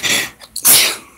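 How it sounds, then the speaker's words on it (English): A single loud, close sneeze from a person, a short sharp burst with a quick intake of breath before it. "let me sneeze first."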